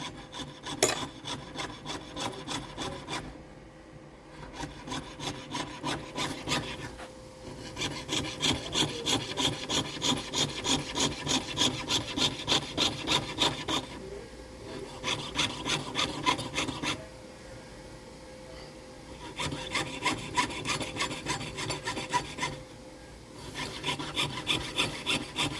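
A jeweler's saw cuts through silver sheet for a flower link necklace in rapid, rasping strokes. The close, steady bursts of sawing are broken by several short pauses.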